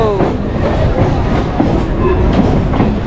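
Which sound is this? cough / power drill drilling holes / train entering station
train entering station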